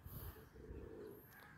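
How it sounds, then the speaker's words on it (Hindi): Pigeons coo low and soft around a net, wild flock mixed with a domestic bird, steady muffled cooing with faint chirps over background hiss, no talking. "एक दो कबूतर उड़ भी रहे हैं, कुछ जाल पे हैं, कुछ ऊपर हैं।"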